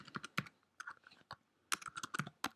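Code is typed on a computer keyboard in quick bursts of crisp, close keystrokes, with a short pause in the middle before a second rapid flurry.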